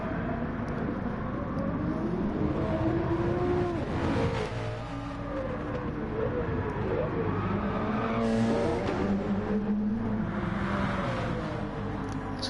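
Race car engine in a multi-class sim racing game, wailing continuously with rising and falling pitch as a car squirrels out of control, tires squealing under the steady roar.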